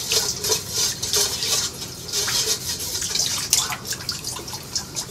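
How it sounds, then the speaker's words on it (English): Hot water splashes and trickles into a bowl to dissolve salt for homemade bread, a steady close pouring with small irregular drips and gurgles. "I'm going to just let the salt dissolve in the really hot water"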